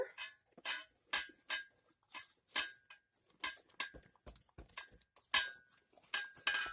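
Yeast and ingredients stirred together in a bowl for bread rolls, with repeated clinking and scraping of a utensil against the bowl in a steady, uneven rhythm, close up.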